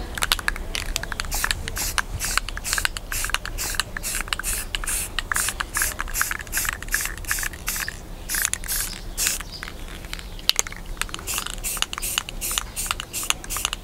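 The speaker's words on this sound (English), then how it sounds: "I would keep your distance from where you're trying to spray so you don't goop it on" Spray paint hisses onto a light fixture being updated for home staging, in quick repeated short bursts a few seconds long with brief gaps, close by and fairly loud, with no talking.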